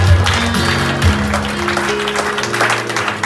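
A church congregation at a mission gathering in Nyamira claps together, a dense, steady wash of hands that fills the room at fairly close range, with faint tonal sounds lingering underneath.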